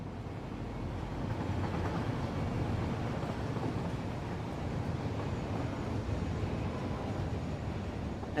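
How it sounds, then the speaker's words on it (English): Iron Valley freight train running in the heavily modded game Satisfactory, a continuous low rumbling roll with faint rail clatter, steady and fairly close throughout, with no talk. "That's the Iron Valley train"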